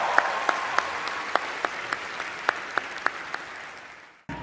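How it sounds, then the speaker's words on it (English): A large indoor audience at a comedy roast applauds in a steady, dense wash of clapping with a few sharp individual claps standing out, fading near the end. "Huge round of applause."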